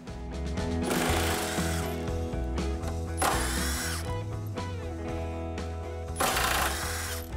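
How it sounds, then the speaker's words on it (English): An impact power tool removes factory chassis bolts on a 2015-2023 Ford Mustang, giving loud rattling bursts of hammering and whirring that come in close, repeated spurts with no voices. "Now we're gonna remove these three factory bolts."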